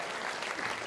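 At a games festival in Berlin, an audience claps for a speaker in a brief, steady burst of applause heard on its own at moderate level.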